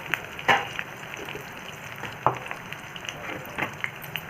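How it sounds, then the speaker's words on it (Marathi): Raw banana pieces fry and are stirred in a pan, a soft steady sizzle with occasional scraping taps from the spatula, close and fairly quiet. "पूर्ण टाकून देते मी एका वेळेस सगळ्याला परतून घ्यायचे"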